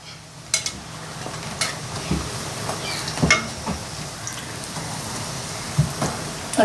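Milk roti frying a second time in hot oil, a steady soft sizzle and bubbling with occasional stirring taps and clinks, close and moderately quiet, no talking.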